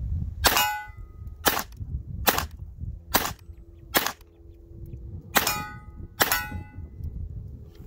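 Six sharp pistol shots from a Sig Sauer P322 firing Winchester 36 grain ammunition, loud and close, spaced irregularly about a second apart with a short pause before the last pair.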